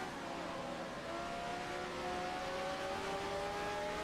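A 1979 Formula 1 Lotus mod car in Assetto Corsa roars at high revs, a loud, steady engine scream with rising pitch sweeps as it accelerates through the gears, with no talk over it.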